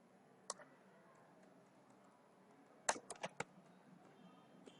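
Keys tapped on a computer keyboard while entering a conda install command, a single faint click followed later by a quick cluster of several louder clicks in an otherwise quiet room.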